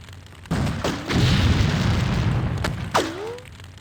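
Heavy cannon blasts and explosions in the video game X-Com Apocalypse, several loud booms with rumbling tails and a falling whistle-like tone after the last hit.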